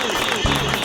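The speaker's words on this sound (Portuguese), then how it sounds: "Eu quero palmas, eu quero palmas, eu quero palmas, Brasil! Palmas!" Applause from a live show audience in Brazil, brief and dense, with a voice speaking loudly over the clapping.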